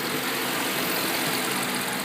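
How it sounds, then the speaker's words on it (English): Steady, even idle of a 2012 Dodge Charger SRT-8 Super Bee's 392 Hemi pushrod V8, a continuous smooth rumble with no voices over it. "Smooth running engine."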